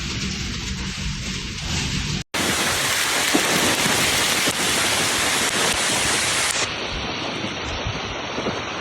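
Heavy storm rain pours down in a loud, steady broadband roar, briefly cut off once early on, then continuing unbroken with a slight drop in hiss toward the end; a thunderstorm with hail and strong gusts.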